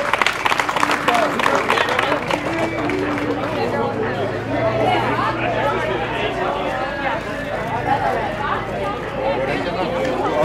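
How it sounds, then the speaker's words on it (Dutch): A crowd at a youth cycling race podium in Erpe-Mere applauds for rider Vino, the steady clapping and chatter running under someone speaking over a loudspeaker. "En applaus voor Vino."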